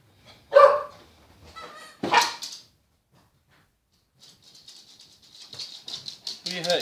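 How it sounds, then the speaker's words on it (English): A dog gives two distinct barks close by, then goes quiet before softer, higher chirping and rustling sounds follow. "This is the dog."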